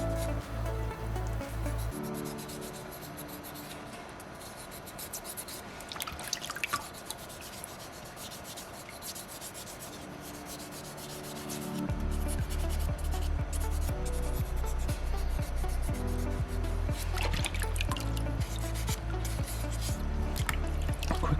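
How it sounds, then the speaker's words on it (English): A bin bottom is scrubbed with water during a soapstone carving project, giving steady close rubbing and wet scraping that grows louder and fuller in the second half, with no talking. "Scrubbing the bottom of my bin."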